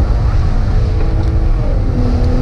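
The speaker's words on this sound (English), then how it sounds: "really nice pops on the downshift" A Maserati Ghibli S GranSport on the road, with a loud, close, continuous engine and exhaust drone that rumbles on a downshift, low and thick with no distinct separate pops standing out.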